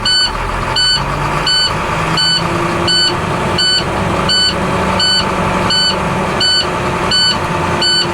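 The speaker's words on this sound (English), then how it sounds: "So you guys gonna press again the fuel pedal no exceeding the 1200 RPMs." Truck engine on a Class B air brake vehicle held at a steady mid-range rev to build air pressure, running loud and continuous while a reversing-type beep repeats at regular intervals over it.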